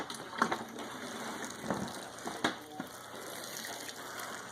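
Water poured onto seed-starting potting mix blended with mycorrhiza and fertilizer, a soft uneven gushing with a few brief splashy pulses, moderately close and fairly quiet, no talking.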